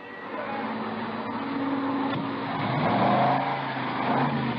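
Cars roll through a gas station's 10-minute car wash as a radio drama effect. A steady engine rumble swells and fades as vehicles pass at moderate distance, with no voices over it.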